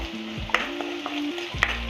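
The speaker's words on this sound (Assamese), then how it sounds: "এইখিনি সামগ্ৰী লৰাই থাকিব।" Spices with salt, cumin and turmeric stir-fried in a pan while raw papaya khar is cooked, giving a steady sizzle with several sharp scraping clicks of a spoon against the pan, close and alone.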